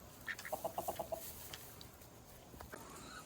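Chickens in a chicken tractor cluck in a quick series of short calls while scratching through fresh bedding, fairly close, with faint rustling and some background noise.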